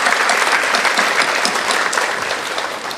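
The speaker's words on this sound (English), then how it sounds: "round of applause for the Sheriff" Dense, steady applause from a commencement ceremony audience honoring the sheriff, loud and sustained throughout with no voices over it.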